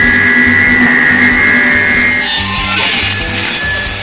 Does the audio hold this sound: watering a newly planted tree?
no